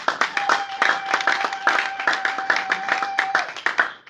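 A church congregation claps together in steady, fairly fast rhythmic applause during a worship service, loud and full, with a sustained tone ringing underneath.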